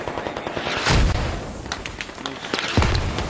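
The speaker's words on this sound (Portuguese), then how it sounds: "VTR jogando bomba aqui" Bombs and gunfire from a war video game, with heavy booming blasts near the one-second mark and again near the end, over a steady rumble of distant shots and scattered sharp cracks.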